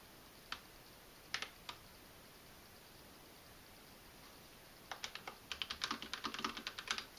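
Keystrokes on a Razer BlackWidow V4 RGB LED mechanical gaming keyboard: a few isolated clicks, a pause, then a quick run of faint, crisp key presses near the microphone.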